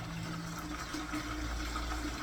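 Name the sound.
water being poured in to top up a wine kit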